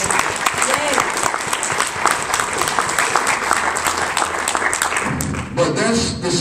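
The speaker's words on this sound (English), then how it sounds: "Give yourselves a round of applause." An audience applauding together at a morning program, loud sustained clapping that fills the room evenly for several seconds before starting to thin out near the end.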